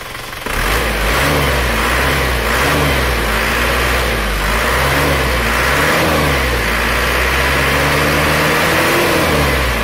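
A diesel engine revs up and holds at a steady rough throttle after injection pump timing adjustment, loud and close, with a knocking clatter underneath; no talking.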